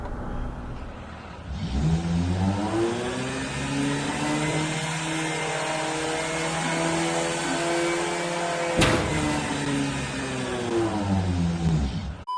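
A car engine revs hard and holds a high, straining whine for several seconds, with a sharp break partway through before roaring on.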